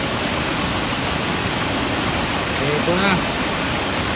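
The river and waterfall at Mahinahon Falls in Taywanak give a steady broadband rush of falling and flowing water, loud and constant throughout, with a brief voice speaking over it.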